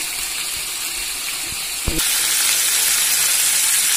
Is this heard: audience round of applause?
no